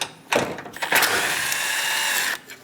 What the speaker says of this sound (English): Using a 10mm socket, we're going to remove the 4 bolts